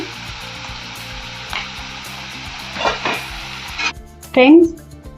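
Ginger garlic paste hits a hot pan of softening onion pieces and sizzles steadily, with stirring scrapes and a few louder clatters, while a voice speaks intermittently.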